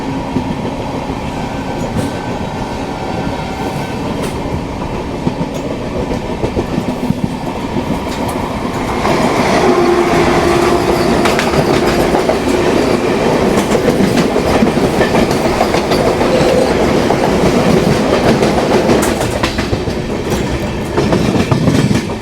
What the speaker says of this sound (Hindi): वंदे भारत से अपनी ट्रेन की क्रॉसिंग हुई है